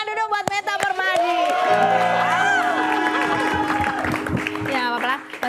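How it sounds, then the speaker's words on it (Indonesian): A studio audience on an Indonesian TV talk show claps and cheers, with loud whoops and shouts blending into a lively roar alongside voices. "Tepuk tangan dulu buat Meta Permadi."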